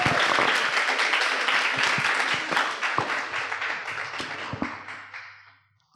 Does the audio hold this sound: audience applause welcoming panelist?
yes